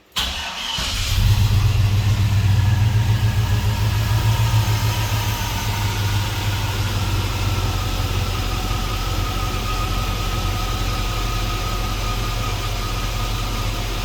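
A Chevrolet C10 squarebody truck with a swapped LS engine cranks and fires, then settles into a loud, steady idle that gradually slows down, heard alone with no talk.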